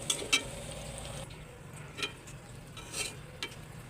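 Bitter gourd frying in a pan, a low sizzle with a few spoon scrapes and clinks, busier at the start and then sparse, no voices.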